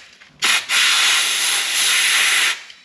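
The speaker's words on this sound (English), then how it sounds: "I'm gonna blow out the hole." Compressed air blasting out a drilled, thread-cut hole in a BMW M52 engine block, one loud continuous hiss of about two seconds after a short initial burst, close and alone.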